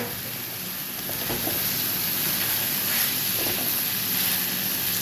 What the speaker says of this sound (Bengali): ক্যাপসিকামগুলো বেশি ভাজবো না, একটু জাস্ট সফট হবে, তারপর তুলে নেব